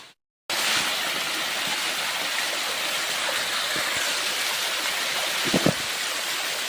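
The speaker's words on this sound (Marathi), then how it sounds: "बघा मित्रांनो जबरदस्त असा धबधबा आहे हा" Waterfall flowing strongly after summer rain, a steady broad rushing roar of falling water heard nearby and continuously, with a brief silent start and a couple of small knocks near the end.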